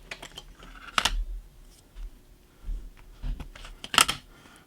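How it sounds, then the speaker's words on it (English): Scissors cut pieces out of a sheet in a few sharp, separate snips with short pauses between them. The cuts sound close and moderately loud over a quiet background. "take this sheet right here and cut out these two pieces"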